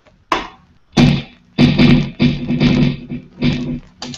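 Electric guitar run through a dual delay set to quarter-note and dotted-eighth repeats, giving a loud sequence of six struck chord bursts, each trailing into echoing repeats, with short gaps in between and no talking.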